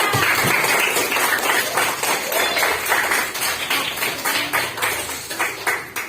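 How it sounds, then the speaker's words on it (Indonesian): Schoolchildren in a classroom clap their hands together on a teacher's cue, a dense, steady patter of many small hands close by that runs throughout, with faint voices mixed in. "Tepuk tangan dulu buat kita semua."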